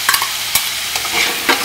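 Fried potatoes go into a hot pan of spices for a katla fish curry, with a short burst of close sizzling and a few quick scraping stirs.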